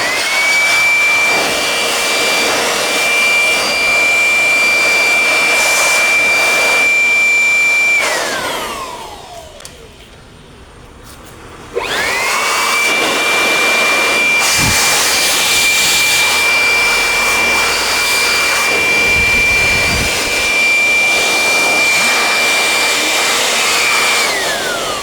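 A brand new electric air blower roars loudly while blowing dust out of a decade-old PC, a steady high whine that cuts out for about two seconds before starting up again and running on.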